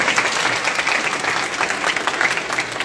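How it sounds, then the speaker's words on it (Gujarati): A crowd at a gathering in Gandhinagar raises their hands and claps together, producing dense, loud, continuous applause with no voices standing out. "તમારા માટે હાથ ઊંચું કરી તાળી પાડી દો"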